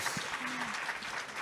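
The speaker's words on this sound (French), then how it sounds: "on peut les applaudir." Applause from an audience at a library association conference plenary session in France, a steady dense clatter of clapping filling the short stretch, with a brief voice tone faintly underneath.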